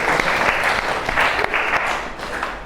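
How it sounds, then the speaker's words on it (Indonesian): Classroom students applauding for a classmate at a high school, a loud close burst of many hands clapping together that tapers slightly toward the end. "beri tepuk tangan dulu untuk Rakel"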